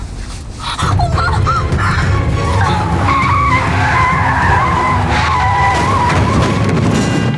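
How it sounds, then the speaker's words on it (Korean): A car's tyres skid loudly and continuously for several seconds in a drama's traffic-accident scene, the screech sustained and harsh after a brief lead-in. "결국 교통사고가 나고 마는데"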